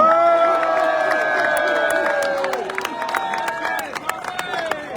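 A large outdoor rally crowd applauding and cheering loudly, with steady clapping and whistles while a voice speaks over the noise, gradually thinning toward the end.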